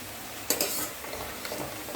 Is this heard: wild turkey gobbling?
no